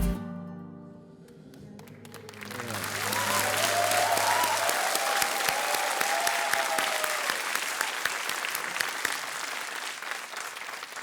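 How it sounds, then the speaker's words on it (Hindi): A television quiz show studio audience bursts into dense, sustained applause that swells after a musical sting and keeps going loudly to the end, with a few sharper claps standing out. "बेसाख्ता तालियां बज रही आपके लिए"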